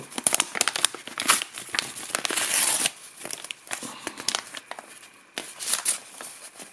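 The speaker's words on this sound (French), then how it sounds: "On va déballer ça. Donc enveloppe simple, apparemment pas de protection." A plain unpadded shipping envelope containing a 32 GB OV SD card is torn open and handled, with close, busy crinkling, crumpling and tearing of paper in irregular bursts.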